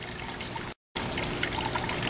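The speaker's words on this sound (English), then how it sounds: "the whole siphon has been working the whole time it's been underwater" Water trickles and gurgles steadily as a siphon drains a hot tub aquaponics system, the flow continuous and close apart from one brief cut to silence.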